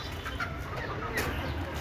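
Native chickens cluck nearby in a short burst of soft clucks over a steady low background hum.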